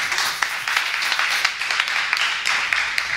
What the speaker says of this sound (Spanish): Así que les pido un aplauso para todo lo que acabo de decir.